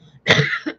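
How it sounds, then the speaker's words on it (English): A single harsh cough bursts out after a brief murmur, loud and close, with a short second catch trailing at the end. "I'm going to start coughing."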